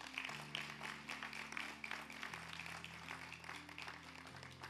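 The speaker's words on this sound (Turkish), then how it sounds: "Mezun öğrencilerimizi alkışlıyor ve tebrik ediyoruz." An audience at a 2023 university graduation ceremony applauds the graduates with a steady, distant patter of clapping that blends with sustained background music, all heard faintly.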